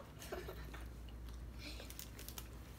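A child bites and chews a dried salmon-flavoured Japanese snack, producing faint, scattered crunchy bites and chewing clicks heard quietly and close, with no clear talk.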